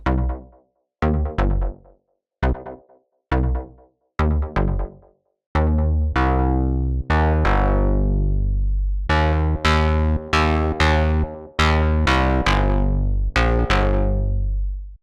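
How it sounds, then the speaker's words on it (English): A synth bass sample in a tech and minimal house style plays a stepping pattern: short punchy bass notes with gaps at first, then sustained thick tones with sharp bright attacks, loud and upfront with no voice. "This one is a really cool bass step sound and sounds like this"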